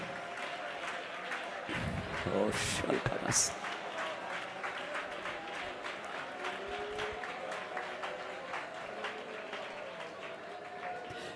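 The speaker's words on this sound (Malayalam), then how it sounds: "ശക്തിയോടെ കൈയടിച്ചേ" A church congregation clapping loudly and rapidly, a dense rhythmic patter of many hands continuing for the whole stretch, with voices mixed in over the claps.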